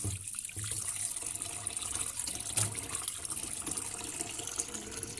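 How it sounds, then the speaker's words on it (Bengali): Dried fish is rinsed in water, with a steady faint running-water hiss and light splashing throughout, no voices. "শুটকি মাছটা অনেকবার জল দিয়ে ভালো করে ধুয়ে নিতে হবে, যাতে কোনো বালি বা কোনো নোংরা না থাকে।"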